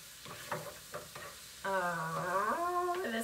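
Cauliflower fried rice with ginger is stirred in a pan: soft scraping taps for the first second and a half, then a tonal melody takes over and runs to the end.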